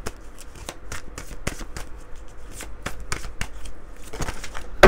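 A deck of oracle cards being shuffled by hand, a steady run of crisp riffling flicks and slaps close by, with no talking.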